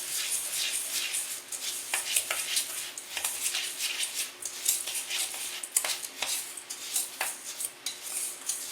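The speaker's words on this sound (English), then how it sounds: "it says to stir that till it's blended" A utensil stirring pumpkin cheesecake bar batter in a bowl, with steady scraping and clinking strokes and a few sharper taps against the side, close and fairly quiet, with no talking.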